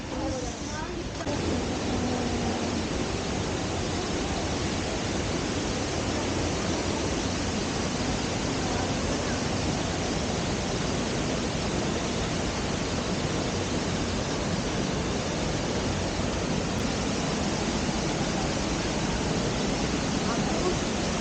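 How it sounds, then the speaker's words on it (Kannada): Tibumana waterfall in Ubud, Bali: a loud, close, steady roar of falling water that stays unbroken and even throughout. "ನೋಡೋಣ ಈ ವಾಟರ್ ಫಾಲ್ಸ್ ಹೆಂಗಿದೆ ಅಂತಂದು"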